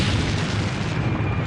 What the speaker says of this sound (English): The tank absorbs the explosion.